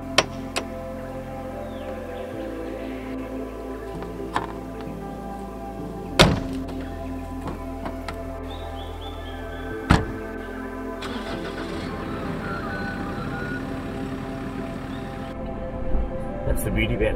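A dual cab ute with a canopy: a door thunks shut, another thunk follows a few seconds later, then the engine cranks and settles into a steady running hum under faint background noise.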